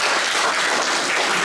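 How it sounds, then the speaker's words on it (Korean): Steady, dense applause from a large audience at a seminary graduation and degree ceremony, loud and continuous throughout without a break. "하나님께 영광의 박수를 올려드리겠습니다"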